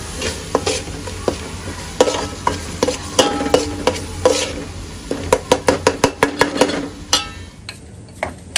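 Keema with chilli powder, turmeric and keema masala fries in a pan under a steady sizzle. A utensil scrapes and knocks through it in repeated strokes that quicken into a rapid run of sharp clinks before slowing, with no talking.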